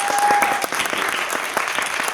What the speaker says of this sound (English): Can we have a round of applause for these amazing artists?